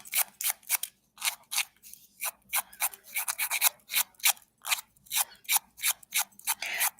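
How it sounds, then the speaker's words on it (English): Press-on nail tips are trimmed and then filed, giving quick rhythmic rasping strokes close by, in short bursts separated by brief pauses. "you can just go ahead, trim the excess, and then file"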